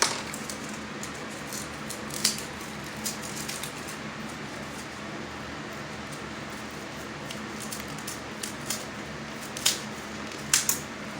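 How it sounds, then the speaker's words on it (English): Scissors snipping through paper, a few sparse, quiet cuts scattered over a low steady room hum with no talking. "Might have to do a little bit more cutting."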